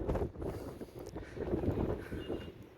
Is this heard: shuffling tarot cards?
no